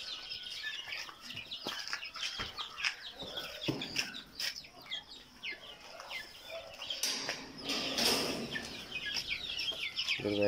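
Young chicks in a sectioned coop by an incubator setup, chirping and clucking continuously at a low level, many small overlapping calls with occasional rustling.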